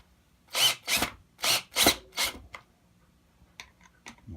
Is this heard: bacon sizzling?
no